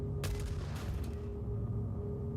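A ground missile fires in a Star Citizen PTU 4.6 combat test, a sharp launch burst followed by a rushing, rumbling roar that trails off over a couple of seconds, loud and with no voices.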